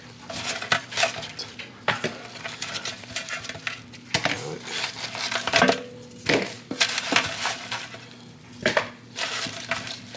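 Grilled, brined chicken wingettes and drummettes are moved into bowls, producing close clinks, scrapes and knocks of utensils against dishes in an irregular rhythm, with a few sharper clatters.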